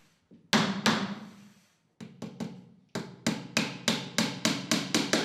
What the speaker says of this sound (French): Avec un bloc à frapper et un marteau, tout se met bien en place.